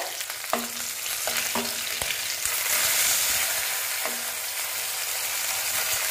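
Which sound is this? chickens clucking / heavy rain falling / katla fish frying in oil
katla fish frying in oil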